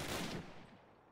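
A short, faint burst of enemy gunfire in the Call of Duty: United Offensive video game, rattling quickly and then fading within about a second.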